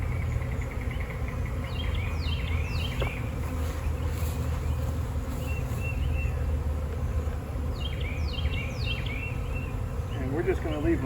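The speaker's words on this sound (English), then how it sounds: "There's a cluster of bees over here already." A swarm of honey bees being relocated by a beekeeper in North Texas gives off a steady, dense, close buzzing hum with birds chirping faintly in the background.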